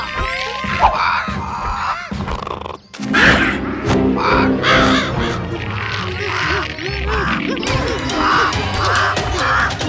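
In an animated Chhota Bheem cartoon, a character turned into a crow gives repeated loud cawing calls, a voice imitating the bird, layered over busy music and sound effects.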